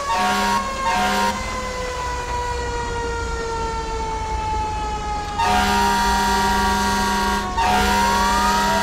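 A fire engine siren wails loud and close in GTA 5 as the truck responds code 3, sweeping steady tones broken by short air-horn blasts with engine noise beneath.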